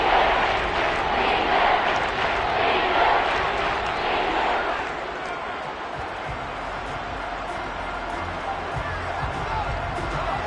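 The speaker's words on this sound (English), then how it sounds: "the crowd getting into it as we come up on a big 3rd down" American football stadium crowd roars loudly before a big third down, a broad wash of cheering that swells at first and then settles into a steady, lower din.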